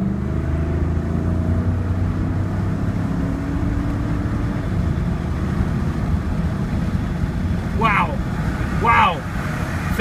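A 2015 Ford F-150 AOR Edition pickup accelerates on the road, heard from inside the cab as a steady low engine drone that climbs in pitch, with brief voices near the end.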